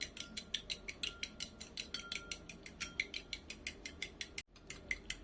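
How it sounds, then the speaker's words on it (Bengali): Egg beaten briskly with a fork in a bowl: fast, even clinking strokes about five per second, close and clear, with one brief pause near the end. "এরপর ডিমটা খুব ভালোভাবে আমি ফেটিয়ে নেব।"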